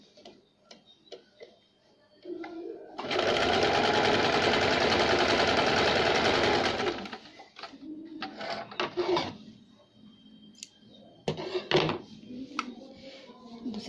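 A sewing machine runs a double line of stitching on a jumpsuit seam, one loud continuous burst of about four seconds, with quieter handling clicks and brief murmurs before and after.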